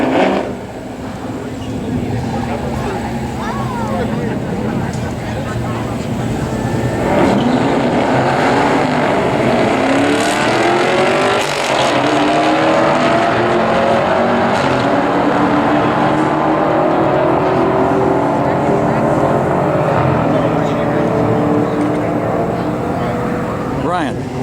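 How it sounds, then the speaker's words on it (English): A black Mach 1 on street tires drag races a newer Camaro at a night drag strip event, a loud, steady engine roar filling the whole stretch with rising and falling pitch sweeps as the cars accelerate. "here's my friend's black Mach 1, and he's racing a newer Camaro"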